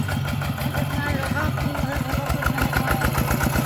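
Small walk-behind tractor with an 11-horsepower engine and a sunshade canopy, chugging in a fast steady rhythm close by, while someone talks over it.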